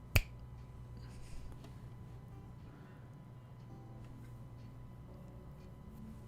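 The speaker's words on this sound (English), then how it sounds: "Snap your fingers" A single sharp finger snap rings out right at the start, loud and close, followed by several seconds of quiet room tone with a low steady hum.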